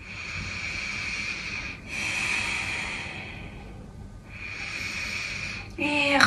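Slow, deep breathing during a home yoga session, two long hissing breath cycles with short pauses between them, close and steady, ending on a sharper tonal sound.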